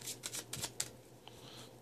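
Playing cards cut in a false cut flourish: a quick run of soft, papery snaps and riffles, close and fairly quiet, with no voices.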